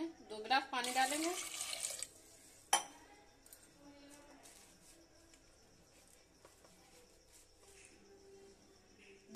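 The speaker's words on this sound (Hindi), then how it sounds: "इसमें 2 गिलास पानी डालेंगे।" Water is poured by the glass into a pressure cooker holding washed potatoes while making golgappe and chaat. A splashy pour lasts about two seconds, followed by a sharp clink and quiet kitchen sounds, with a voice talking faintly.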